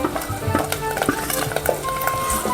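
Onion and mixed masala frying and being stirred in a pan for a spicy goat mutton curry, with a steady sizzle and frequent scraping and clinking of a spoon against the pot, close and fairly loud.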